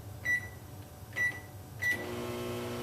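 A microwave oven heating an agarose gel solution in a lab gives three short beeps as it is set, then its steady running hum begins and continues.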